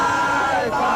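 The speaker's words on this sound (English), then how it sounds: "An unprecedented crowd of hundreds" Hundreds of people gathered outside Ted Bundy's execution roar and shout together in a loud, dense wall of crowd voices lasting a brief moment.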